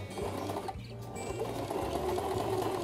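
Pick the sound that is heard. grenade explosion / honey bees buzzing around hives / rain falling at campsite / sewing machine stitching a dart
sewing machine stitching a dart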